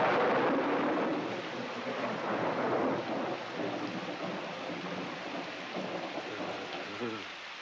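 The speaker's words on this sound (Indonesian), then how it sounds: "Hujan-hujan begini." Heavy rain pours steadily with a deep rumble of thunder rolling beneath it, loudest at the start and then settling into a constant wash of rainfall.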